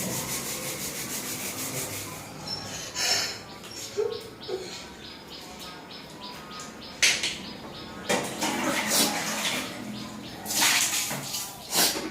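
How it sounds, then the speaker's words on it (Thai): Bathroom cleaning with water splashing and scrubbing: continuous rubbing and swishing with intermittent louder splashes and sharp knocks, close by, while a voice talks over it at times. "ไปล้างห้องน้ำให้สะอาด"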